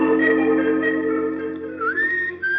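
A man whistles a steady, melodic tune, close and clear, with sustained notes and a short rising slide near the end, no talking.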